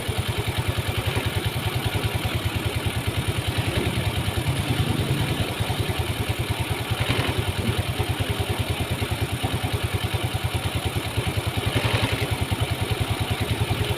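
A Yamaha Mio scooter engine idles steadily and close by while its air screw is turned, a continuous low putter with a fast even pulse and a slight clatter, the level holding nearly constant throughout.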